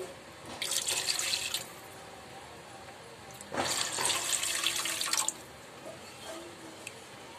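Water runs in two bursts of a few seconds each, a splashing pour into a pot of crab curry with a quiet gap between.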